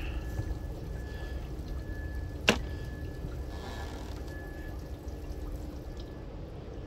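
Water runs and trickles steadily through the plumbing of a 34-foot SeaRay Sundancer boat moored in the water, with a single sharp click partway through and low hiss throughout.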